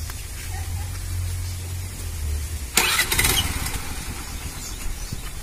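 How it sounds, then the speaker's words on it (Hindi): A Honda Activa scooter with a carburetor fault cranks and catches at about the three-second mark in a short loud burst, then quickly dies back instead of holding idle, over a steady background hum. "देखिए, हम जैसे ही गाड़ी ऑन करते हैं हमारी गाड़ी बंद हो जाती है, आइडलिंग पे रुकती नहीं है"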